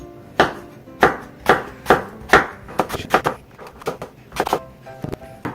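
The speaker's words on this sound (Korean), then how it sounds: "슬라이스를 해주도록 하겠습니다." A knife slices a lemon on a cutting board, producing a series of crisp, fairly regular chops close by, with soft handling noises between cuts.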